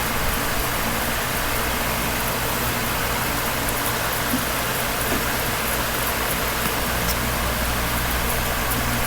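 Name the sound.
NASCAR Cup car doing a burnout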